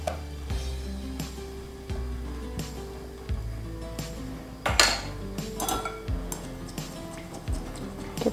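Spoon stirring chicken noodle seasoning with soy sauce in a bowl, with repeated clinks and scrapes against the bowl rim at a steady, irregular rhythm, close and clear, with no talk over it.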